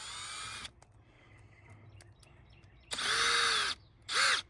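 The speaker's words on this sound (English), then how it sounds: "Now we're gonna drill those holes." A power drill whirs in three bursts drilling holes in a Jeep Wrangler door, a longer one at the start, then two more after a quiet pause, the last one short and close.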